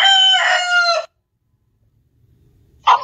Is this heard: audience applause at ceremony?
no